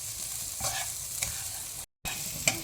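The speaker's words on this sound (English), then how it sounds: "Now you can see after cooking the onions for about 2 or 3 minutes, you can see the color has changed" Onions and green chilies fry in a pan for semolina upma, a steady sizzle broken by several scraping stirs of a spoon and one brief cutoff.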